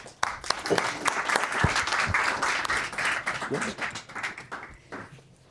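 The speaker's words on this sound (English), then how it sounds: "we will give them a big round of applause" Audience applause after a speaker introduction at a talk on imposter syndrome, a dense wash of clapping that swells quickly and holds steady before tapering off near the end, with faint voices mixed in.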